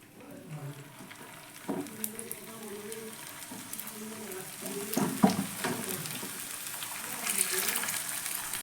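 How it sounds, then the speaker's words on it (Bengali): Potato-stuffed tiffin snacks frying in hot oil, a steady close sizzle running throughout with occasional louder bubbling bursts; faint voiced sounds under it. "আর এই তেলের মধ্যে আবারও বাকিগুলো দিয়ে ভেজে নিব"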